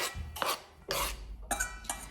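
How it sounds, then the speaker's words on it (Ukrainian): Dishes come out of a home dishwasher in a few short clattering bursts of clinking and scraping, close by and fairly quiet, with brief pauses between. "Посудомойку надо раскласть."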